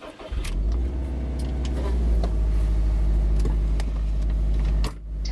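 A 2011 Subaru STI with a COBB Accessport tune starts up and settles into a steady, loud, close idle with a deep rumble, cutting off sharply near the end; no one speaks.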